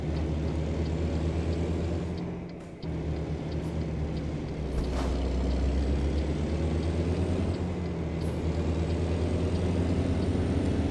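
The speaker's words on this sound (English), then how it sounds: "I love the sound of the truck, by the way." Truck in American Truck Simulator driving near Elko: a steady low diesel engine rumble with a brief dip and a few hissing air bursts, continuous and close, with no voices.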